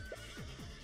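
A horse in a Roblox game gives a short neigh followed by a couple of quick, descending whinny-like sounds, close and fairly quiet.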